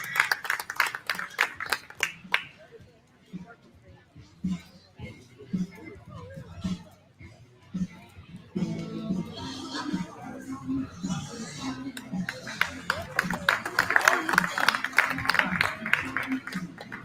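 Crowd at a livestock show bursts into scattered clapping at the start and again at the end, with an announcer speaking over the arena sound between.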